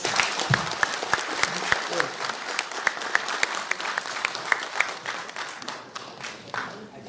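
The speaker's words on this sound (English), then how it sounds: "Round of applause, please." Steady audience applause at a public forum after a speaker, many hands clapping continuously and fairly loudly, fading slightly toward the end.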